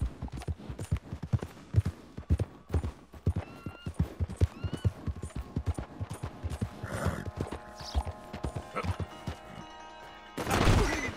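Horse hooves clip-clop in a rapid galloping rhythm in Red Dead Redemption 2 played in first person, with a neigh, some thuds and a sudden crash near the end as the horse loses control.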